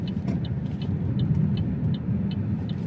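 Buick Envista Avenir engine droning steadily while driving, a continuous low rumble with road noise and faint repeating high ticks, no talk.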